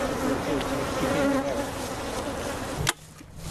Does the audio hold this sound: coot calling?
no